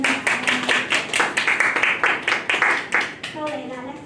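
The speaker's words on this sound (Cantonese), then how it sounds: "好多謝你，俾啲掌聲" An audience at a teachers' workshop on stress and time management gives a round of clapping, quick, even hand claps close by, with voices talking over them.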